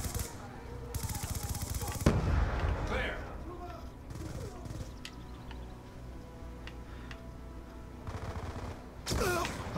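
Gunfire in Call of Duty: Black Ops 2 multiplayer, a loud burst of shots early on, then sparser cracks and ticking game sounds over a low hum, ending in another burst.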